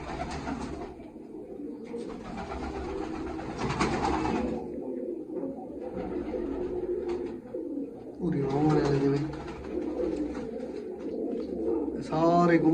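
Pigeons coo in low repeated bursts, close by, while a person talks intermittently over them.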